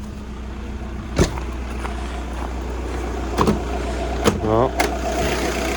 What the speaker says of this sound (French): On démarre au quart de tour, hein, on réfléchit pas.